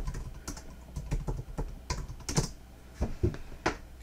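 Keys on a computer keyboard are typed in short irregular bursts, a close sequence of light plastic clicks and taps with small pauses, as a password is entered.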